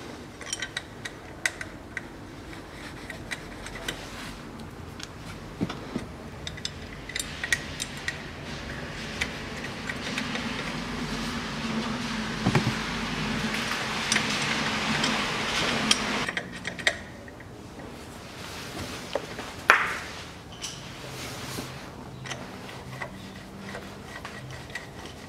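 A wrench tightens bolts on the CVT oil pan of a 2010 Nissan Murano Z51. Sparse metallic ticks and clicks repeat at an uneven pace over a low hum, with a brief ratcheting whir partway through.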